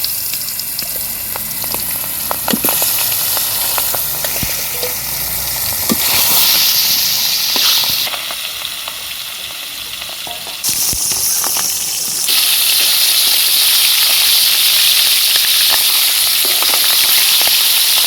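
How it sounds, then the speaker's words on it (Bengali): Loud, continuous sizzling and crackling of spice paste frying in oil left from frying pangas fish, steady for the whole stretch with occasional pops and stirring. "পাঙ্গাসের তেল থেকে আমি পাঙ্গাসের মশলা ভেজে নেই"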